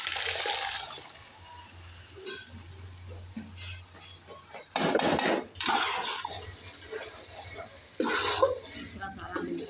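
Ground pumpkin halwa stirred in a pot over the stove, a spoon scraping and clanking against metal with soft wet sizzling, in intermittent bursts with someone talking between strokes.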